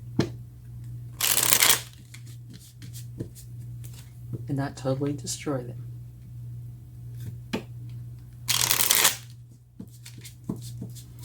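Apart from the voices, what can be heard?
shuffling tarot cards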